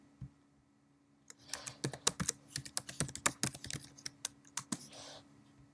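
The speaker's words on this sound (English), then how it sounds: "you should type the name of the file, which is AV_extracted" A file name is typed on a computer keyboard, a close, quick run of crisp key clicks that starts after a second of quiet and continues with a few brief pauses.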